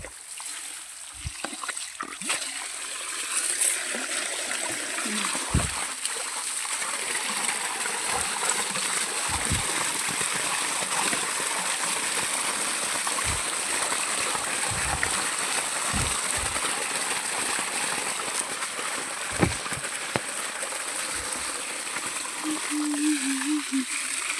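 Water runs and splashes steadily into a container for a long stretch, with occasional clunks and faint background noise.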